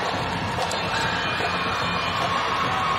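Dense crowd roar at Williams Arena during an afternoon 2020 Class AAA girls basketball state semifinal between DeLaSalle and Simley, a steady, loud wash of cheering and shouting without breaks.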